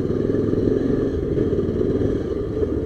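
A Pulsar 220 motorcycle riding along a highway toward Manali in winter, with a steady droning engine hum and road rumble throughout, no talking.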